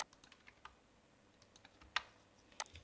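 Keys pressed on a computer keyboard, including the Tab key, a series of faint, close, sharp clicks spaced irregularly with a couple of louder taps, no speech.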